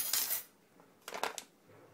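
Chia seeds pattering from a tablespoon onto oatmeal, two quiet sprinkling bursts close by with a pause between them.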